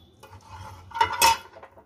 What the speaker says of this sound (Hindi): अब इसमें मैंने 1 चम्मच ये घी डाल लिया है।